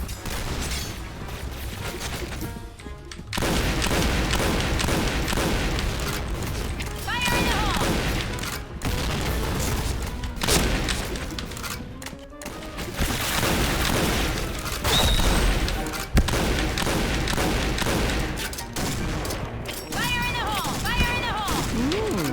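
Grenade blasts and bursts of automatic gunfire from the shooter game Point Blank fill the scene: heavy booms and rapid rattling volleys recur close and loud throughout, with brief lulls between, while players talk over the action.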